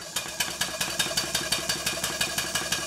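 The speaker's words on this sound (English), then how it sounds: "There was an immediate and considerable improvement in the way the engine ran." A model steam engine runs after its Stephenson's link valve timing was adjusted, chuffing in a quick, regular rhythm of about four beats per second, fairly quiet and close, with each exhaust puff sharp and even.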